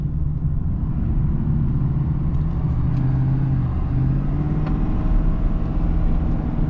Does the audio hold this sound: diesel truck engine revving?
yes